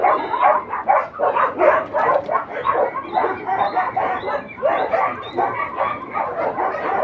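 Many dogs bark and yip continuously in an overlapping chorus, some whimpering, at moderate distance with no pauses.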